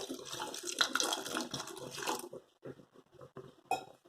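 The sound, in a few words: water poured into white bean and papaya curry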